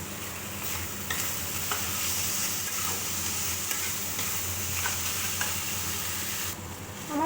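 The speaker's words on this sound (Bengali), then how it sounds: "আমার মশলাটা কষানো হয়ে গেছে।" Masala spices frying in a pan as mushroom masala is cooked, a loud steady sizzle with repeated scrapes and clinks of a spoon stirring, no talking.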